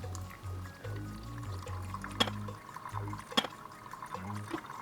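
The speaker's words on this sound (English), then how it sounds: "Just pouring as fast as I can now to fill up" Water poured quickly and steadily from a kettle into two coffee brewers at once, a continuous close splashing fill with a low rumbling gurgle and a couple of sharp clinks.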